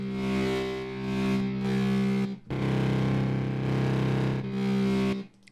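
Heavily distorted sustained tones processed with the Dirt distortion style of the Output Substance plugin, a thick buzzing bass drone in long held phrases with a brief cut near the middle, loud and alone with no talk.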